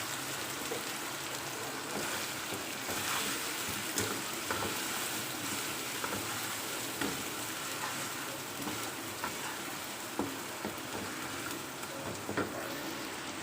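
Beef karahi fries steadily in a pan as tomatoes go in and get stirred, a dense continuous sizzle with occasional soft scraping knocks, close and fairly loud, no voices.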